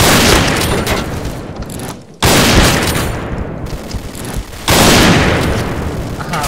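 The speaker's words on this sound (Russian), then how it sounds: "Граната! Граната! Граната!" Grenade blasts in the online shooter Point Blank, two loud booming explosions with long crackling decay, alongside gunfire and a shouting voice.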